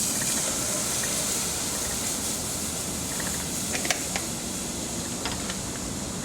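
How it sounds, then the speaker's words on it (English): Milk poured into a pan while making a cheese sauce for chilli cheese fries, a steady close-up liquid pour and hiss running throughout with a few small clinks, no talk. "Then we'll add in the milk and the cheese."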